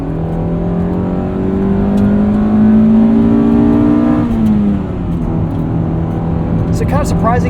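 A 1995 Honda Civic Si engine hums steadily, its pitch climbing gradually with revs before dropping sharply as it eases off, continuous and fairly close.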